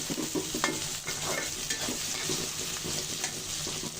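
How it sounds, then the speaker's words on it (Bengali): Chopped onion and garlic sizzle and fry in hot oil in a kadai wok while being stirred, a constant crackling hiss with scraping stir strokes close by. "কড়াইয়ে পেঁয়াজ রসুন কুচি দিয়ে দিয়েছি।"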